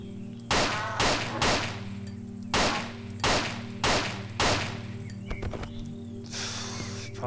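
Gunfire in the horror video game Cry of Fear: about seven sharp, loud shots fired singly at irregular intervals over a low humming backdrop, with a fainter burst near the end.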